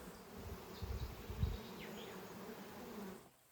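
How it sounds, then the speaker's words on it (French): Honeybees buzzing steadily around spring beehives during an apiary inspection, a dense, moderately quiet drone with a few louder passes nearby, no talking, ending in near silence. "il inspecte chacune de ses ruches pour vérifier le bon état de santé de ses abeilles"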